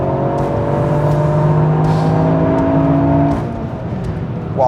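A tuned Toyota Yaris GR engine making 292 horsepower and 430 Nm of torque accelerates hard, a loud, continuous droning roar that climbs steadily in pitch and then eases off near the end, with no talking.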